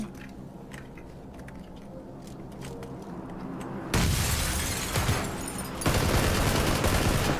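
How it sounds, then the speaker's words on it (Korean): A grenade goes off inside a house in PLAYERUNKNOWN'S BATTLEGROUNDS, followed by loud sustained blasts and rattling gunfire. Faint ticks open the clip before two big noisy bursts fill the second half. "수류탄 일단 던집니다."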